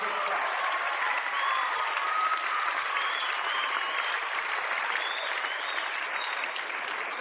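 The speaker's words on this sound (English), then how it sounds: "Give them a quick clap" Sustained applause from an audience at a martial arts tournament, dense, steady clapping that carries evenly from start to finish without a break.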